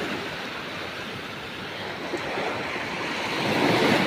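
Ocean waves at a beach where a group is camping, a steady broad wash of surf that swells louder toward the end, with wind noise and no voices.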